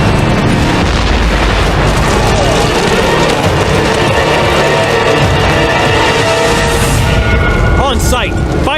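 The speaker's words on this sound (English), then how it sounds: "A cache of fireworks has ignited, setting off a destructive chain reaction. Vendors and customers flee as one stall after another explodes." A cache of fireworks at a market stall explodes in a chain reaction, a continuous loud rumbling barrage of booms and bursts under a narrating voice, with whistling streaks rising near the end.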